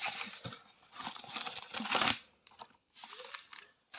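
Plastic wrapping on a craft package crinkles and rustles up close in uneven bursts as it is pulled open, fairly quiet with short pauses.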